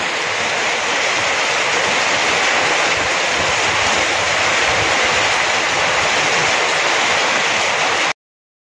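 Heavy monsoon rain pouring onto a house roof in Sambalpur, a dense steady hiss of falling water throughout, loud and close, stopping abruptly at the end.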